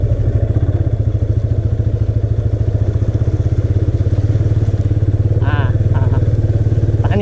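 A motorcycle on an adventure ride in Dang thumps along with a loud, rapid, steady engine pulse close by, and a brief voice breaks in near the end.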